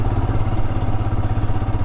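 A motorcycle engine thrums steadily while riding up the icy mountain road toward Sela Pass near Tawang, Arunachal Pradesh, a loud, close, continuous low rumble with constant pulsing.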